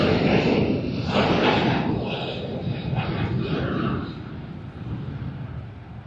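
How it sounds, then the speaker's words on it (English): Aircraft engines roar at Sydney Airport during busy morning traffic, a loud, broad rushing rumble that swells and slowly fades. "in the background, we have a Qantas Boeing 737-800 and Philippine Airlines."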